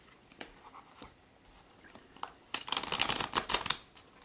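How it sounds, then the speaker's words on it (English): Soft taps and rustles at first, then a burst of quick, crisp riffling as a deck of tarot cards is shuffled close by, with no talking. "All right, I'm going to shuffle a couple times."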